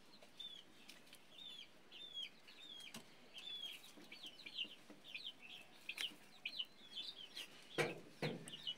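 Newly hatched quail chicks on a farm give faint, repeated high chirps in short bursts, mixed with soft rustling and a few sharp flutters or scratches nearby.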